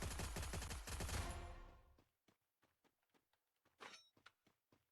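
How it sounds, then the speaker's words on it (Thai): Rapid automatic gunfire from a shooter somewhere above, in the Free Fire video game, crackles loudly for about two seconds, then gives way to scattered soft thumps and footstep-like knocks. "ยิงใครข้างบนเมื่อกี้"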